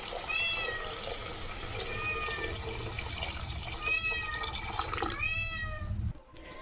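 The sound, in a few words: cats meowing while waiting for chicken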